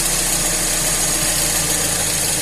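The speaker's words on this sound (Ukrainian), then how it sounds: "Машина трішки підігрілася, показую регулювання холостого ходу." Warmed-up Tavria 1.1 car engine with a carburetor idling steady and loud during idle mixture screw adjustment, a continuous close drone with slight vibration and no voices.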